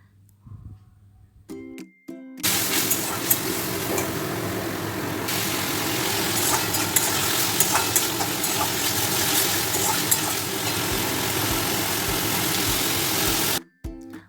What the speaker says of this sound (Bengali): এবার এটাকে মশলাটাকে ভালো করে কষিয়ে নেব ততক্ষণ না মশলা থেকে তেল ছাড়ে